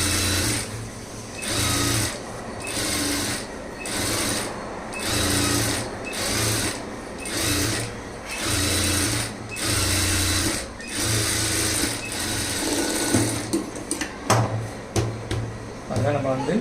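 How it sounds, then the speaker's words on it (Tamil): A sewing machine stitches along a blouse lining in short bursts of rapid, whirring needle runs with brief pauses between them, close and clear, while someone talks over it. "லைனிங் கட் மேலே ஒரு தையல் போடலாம்"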